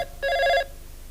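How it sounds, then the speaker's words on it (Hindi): A landline telephone in a newly connected home gives a single short electronic ring, loud and near, with a quiet room around it. "पहली टेलीफोन कॉल आ भी गई, उठाइए"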